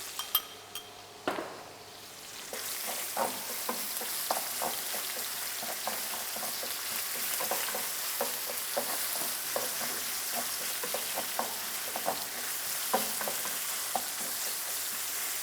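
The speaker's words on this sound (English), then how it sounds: "So as our onions are cooking, we are also going to add some curry." Onions cooking in a pot with marinated beef, ginger and garlic for a Kisii-style matoke beef stew, giving a continuous sizzle broken by repeated light clinks and stirring scrapes of a utensil against the pot.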